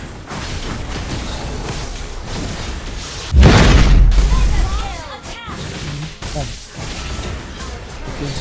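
An explosion in the mobile game Mobile Legends bursts out loud and booming, a single blast that rings and fades over a couple of seconds, set among continuous game effects and a man's chatter.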